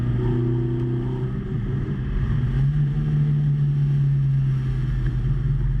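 Tractor engine running steadily through a racing lap, a loud, close droning rumble whose pitch dips and then rises and holds, with no talk over it.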